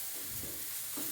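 An egg mixture fries in an alloy pan with a steady, hissing sizzle while a utensil stirs through it, with two soft scraping pushes standing out from the constant crackle.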